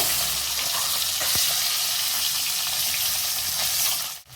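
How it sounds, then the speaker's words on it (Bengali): Eggs fry hard in hot oil in a pan for a Bengali egg curry, giving a loud, steady, close sizzle with no speech. It dips briefly right at the end. "এখন আমি একে একে ডিমগুলো দিয়ে ভেজে নেব"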